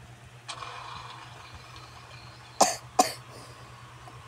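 A person coughs twice in quick succession, loud and close, over a low steady background hum.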